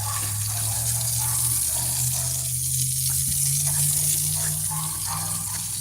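Water running steadily from a hose while watering garden plants on a hot morning in Mississippi, a constant close hiss and splash with a low hum underneath throughout.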